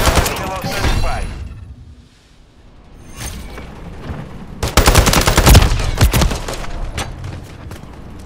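Enemy automatic gunfire in Call of Duty MW3, loud rattling bursts at the start and again in a heavy sustained volley later, with a quieter lull between and voices over the radio.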